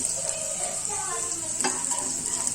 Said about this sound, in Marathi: तुम्ही हा डीप फ्राय पण करू शकता, पण मी इथं शॅलो फ्राय करते